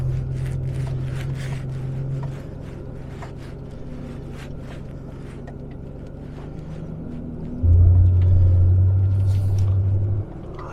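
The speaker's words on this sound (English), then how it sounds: "It's really cool to feel sort of the engine just doing all the braking for you." Land Rover Defender engine braking downhill in low gear, a steady low droning hum that eases off then rises into a louder, stronger rumble for a few seconds before dropping back.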